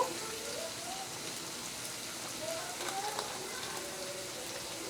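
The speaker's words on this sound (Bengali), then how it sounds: "এবার আমি গুঁড়ো মশলা দিচ্ছি ধনের গুঁড়ো দিচ্ছি এক চামচের মতো" Ground coriander and other powdered spices sizzle in hot oil for a chana masala, a soft, even hiss with faint crackles running steadily throughout.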